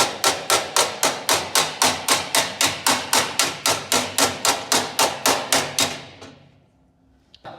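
Steady, evenly spaced blows from a cut-down hammer ring out on metal during car body chassis repair, about twenty sharp strikes in a row, loud and close, before stopping and leaving a quiet tail.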